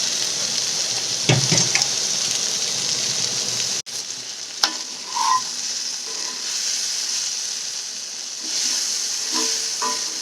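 Bhindi (okra) and onions fry on low heat in a pan, a soft, even hiss of sizzling with a few clicks and knocks of the pan or utensil, and no one speaking.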